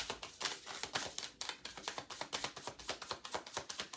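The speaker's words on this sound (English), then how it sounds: "Last shuffle." Tarot cards are shuffled close by in quick, soft, papery riffles and taps, a rapid irregular rustle with no talking over it.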